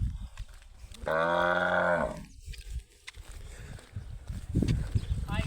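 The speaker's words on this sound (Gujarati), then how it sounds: "જો ભાઈ અમારા ગામની ગાયો" A village cow gives one loud, sustained moo lasting about a second, close by, with rustling and general outdoor background noise before and after.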